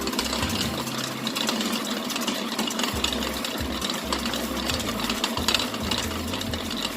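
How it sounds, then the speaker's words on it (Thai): An electric mixer whips egg whites while sugar syrup is drizzled in, giving a close, constant motor whir with a rattling, chugging undertone that shifts slightly in pitch. No one speaks. "นี่นะคะเราก็ตีไข่ขาวแล้วนะ"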